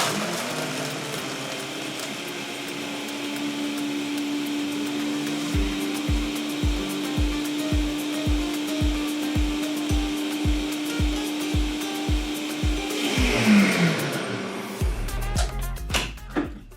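A blender crushes small pebbled ice for a frozen margarita with tequila, starting with a steady whirring motor, then a run of rhythmic clattering thumps as the ice breaks up, before winding down. Loud and close, with no talking.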